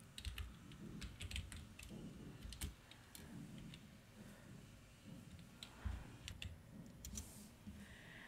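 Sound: typing a website search on a computer keyboard

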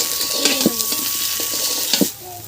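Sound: potatoes frying with salt and turmeric

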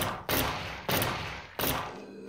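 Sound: gunfire in a Gear VR shooter video game

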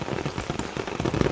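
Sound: heavy rain falling at night

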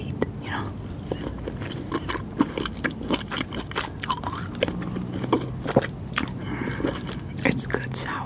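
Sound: biting and chewing snake fruit

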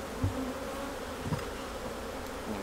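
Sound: bees buzzing around an open beehive

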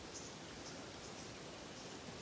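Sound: rain falling near a taiga cabin

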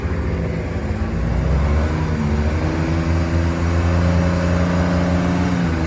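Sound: JLG 330 CRT scissor lift engine running

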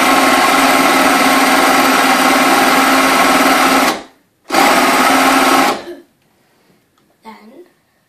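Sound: Spacewinder autowinder winding a Space Derby rocket propeller

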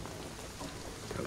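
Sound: rain in video game Shadow of the Tomb Raider

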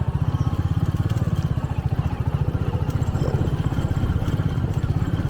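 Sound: motorcycle riding on rough off-road

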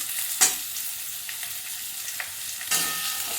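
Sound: potato and pumpkin frying in pan with asafoetida

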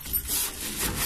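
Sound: wiping an oven with a wet wrung-out cloth

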